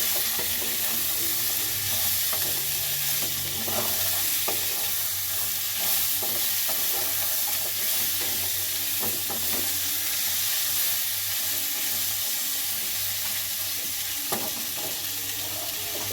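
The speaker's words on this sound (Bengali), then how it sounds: "এবার এইগুলোকেও হালকা করে একটু নেড়ে নেব।" Mixed chopped vegetables with peas and green beans stir-fried in a wok, a continuous moderate sizzle with repeated light scrapes and tosses of a spatula throughout.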